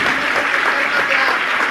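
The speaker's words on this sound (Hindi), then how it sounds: "एक बार जोरदार करतल ध्वनि।" Steady, dense audience applause from a large gathering at a religious discourse, loud and sustained throughout without pause.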